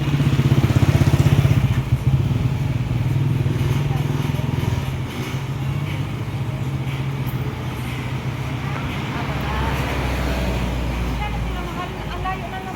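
A small 50cc motorcycle engine runs with a buzzing drone that shifts in pitch, rising and falling as it moves, with people talking over it.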